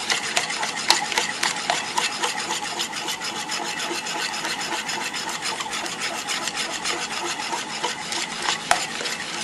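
A whisk or spoon stirs melted chocolate into eggs in a bowl, a steady rhythmic scraping and rubbing, close and continuous with no talk.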